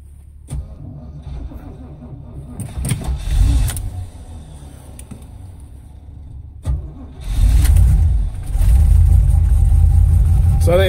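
Old car with a flooded engine cold starting at -25C, cranking and catching briefly, then firing again into a loud rough idle that holds to the end, with brief talk in between.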